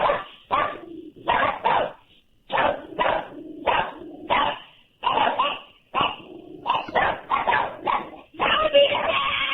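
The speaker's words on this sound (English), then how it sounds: "I think that's a bark." Dog barking in a steady series of loud, close barks with short pauses between bursts, some yipping and whimper-like tones mixed in, heard over a radio call-in broadcast.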